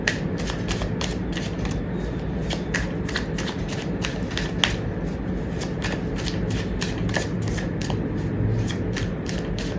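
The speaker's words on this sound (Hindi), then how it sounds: "जब तक मैं कार्ड शफल कर रही हूँ" Tarot cards are shuffled close by in a fast, steady run of crisp riffling flicks that keeps going throughout, with no talk over it.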